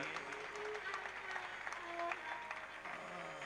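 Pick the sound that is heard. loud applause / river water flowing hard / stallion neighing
loud applause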